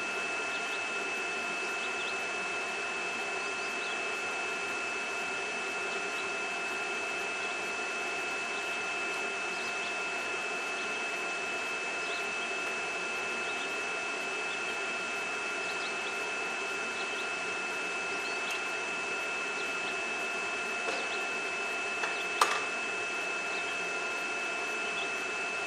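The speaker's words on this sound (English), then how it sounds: "And there's the big vacuum." A big vacuum on a gasifier setup drones at a steady, unchanging pitch for the whole stretch, with a constant high whine riding on top and a single brief clack near the end.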